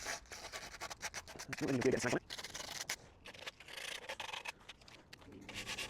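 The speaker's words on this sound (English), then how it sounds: "The only other thing to do then is give the edges a sand down." Scrap wood, untreated and unplaned, having its edges sanded by hand: uneven bursts of close scratchy rasping, one longer stroke in the middle, with brief pauses between strokes.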